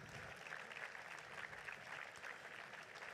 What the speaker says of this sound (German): Großen Applaus auch für dich, Thela.